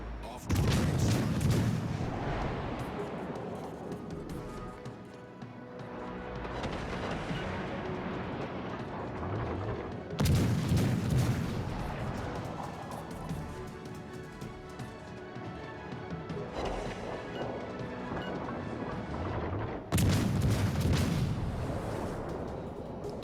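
Heavy naval gunfire from a cruiser in World of Warships Legends, the premium cruiser Mysore: three loud booming salvos roughly ten seconds apart, each a broad blast with a long rumbling tail, over a steady background of game noise.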